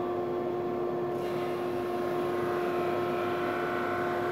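A 22-inch woodshop drum sander runs with its conveyor feeding, giving a steady loud motor hum with a strong tonal whine that holds constant throughout.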